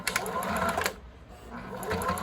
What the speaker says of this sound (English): back stitch, so I don't have to pull all the way out